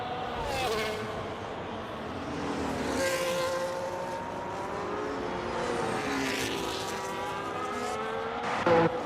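Formula race cars at the Las Vegas circuit, including a Ferrari and an Aston Martin, roar past in a continuous engine drone with rising and falling pitch sweeps as the cars pass by.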